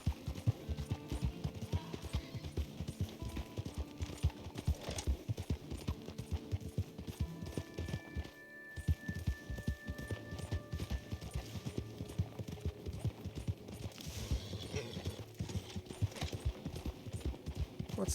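Steady, rhythmic clip-clop of a horse's hooves in a Western video game, continuous and close throughout with a brief pause midway, faint speech barely present.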